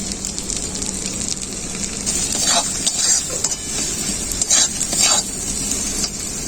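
Ground spices such as turmeric, chilli, cumin, coriander and black pepper fry in oil in a pan, giving a steady close sizzle with occasional stirring scrapes and bursts of crackle.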